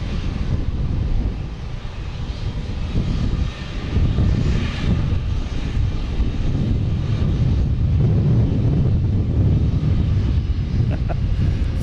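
A loud, sustained roar of an Embraer E175 jet's engines powering up for takeoff at an airport, with wind buffeting the microphone throughout.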